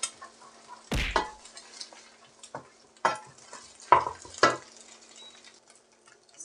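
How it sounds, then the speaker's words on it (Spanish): Scrambled egg being stirred in a frying pan gives a few sharp scrapes and taps, spaced out over several seconds against a quiet background with a faint sizzle. "Un huevo revuelto, un huevo... Bueno, revuelto está, lo estoy revolviendo."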